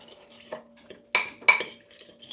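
Utensils clink and scrape against a bowl while lemon and lime chicken is stirred, a few sharp metallic taps over quiet background hum, no talking.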